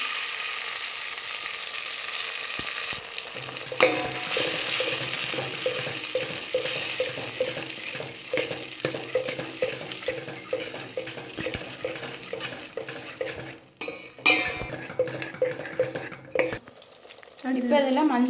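Thick tamarind extract is poured into a hot pan for sundakkai vathal kuzhambu and stirred. A close sizzle rises with steady scraping of the spoon, a hiss at the start and a louder burst near the end.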